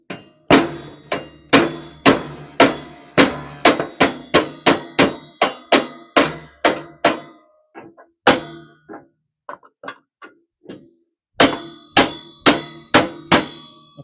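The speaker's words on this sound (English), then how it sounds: "Clearly, the hammer's not working" A hammer strikes metal while a riding mower is converted into a small mobile cabin, giving a fast run of loud, ringing clangs, then a pause with a few lighter taps before more steady blows resume.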